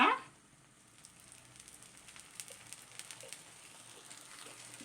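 Oil poured around a rava (sooji) uttapam on a hot pan gives a brief louder burst at first, then settles into a soft, close sizzle with scattered light crackles and pops.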